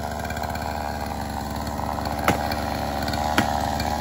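A chainsaw runs steadily while cutting into a large tree root, a continuous buzzing engine drone with two brief sharp knocks partway through; no talking.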